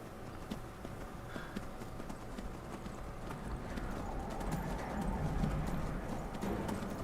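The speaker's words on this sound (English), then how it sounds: "Get ready to gallop." A horse gallops in Skyrim, its hooves clip-clopping in a fast, steady rhythm that grows slightly louder, with faint game ambience underneath.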